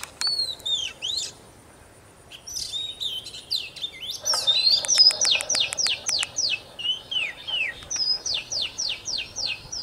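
Bird calls played from a TKS898 bird-trapping loudspeaker, a bright string of chirps and trills, then a long run of rapid repeated whistled notes, clear and steady outdoors with no talk.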